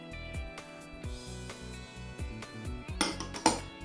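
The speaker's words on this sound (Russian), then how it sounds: "Все хорошо перемешиваю" A spoon stirs condensed milk, sugar, vanilla sugar and starch together in a bowl, making steady rhythmic clinks and scrapes against the dish that grow louder and busier toward the end.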